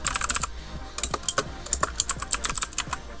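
Fingers typing text on a computer keyboard during a Photoshop tutorial, a quick, uneven patter of crisp close keystrokes with brief pauses.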